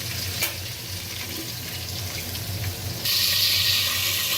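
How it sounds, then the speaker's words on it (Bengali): Chicken meat, a local desi bird, frying in a pan with a steady broadband sizzle that swells louder and brighter near the end, close up and without voices. "এখানে এখন গোশত ভাজা হয়ে গেছে।"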